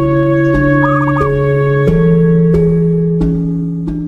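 A caged zebra dove (perkutut) coos in a clear, loud, repeating rhythm, each phrase a series of stepped tonal notes, heard close and alone over faint background hiss.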